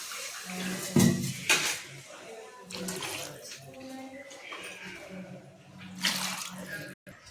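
Water splashes and trickles into a biryani rice pot with clinks of metal, fairly close, while a person talks throughout.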